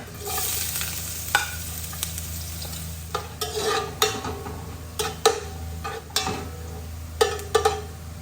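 Ginger sizzles in hot oil in a pan for pork pinapaitan. A steady close fry runs under repeated scraping and tapping of a spatula against the pan.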